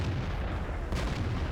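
Distant artillery fire in World of Tanks rumbles as a low, steady boom-laden roar, with one faint muffled impact near the middle and no talking.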